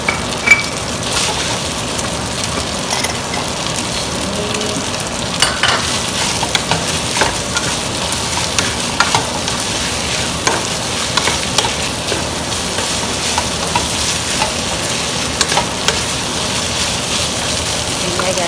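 Red curry fried rice with shrimp and green beans being stir-fried in a hot pan, a steady sizzle with repeated scraping and stirring strokes of a utensil throughout, close and fairly loud, no talking.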